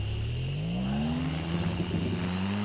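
A Toyota Yaris WRC 2017 rally car engine in the video game Assetto Corsa hums and revs steadily upward, its pitch climbing smoothly as it accelerates, close and continuous with no talking.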